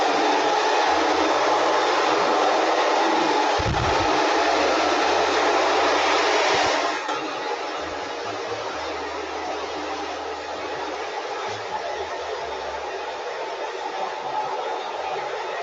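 A handheld hair dryer blows steadily during a salon blow-dry styling session, a loud continuous broadband airflow that softens slightly partway through, with a few brief handling knocks.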